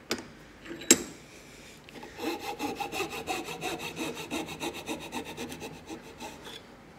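A handsaw cutting wood held in a vise while shaping the handle of a wooden float, a steady rhythmic rasp of back-and-forth strokes, close and clear, after a couple of sharp knocks.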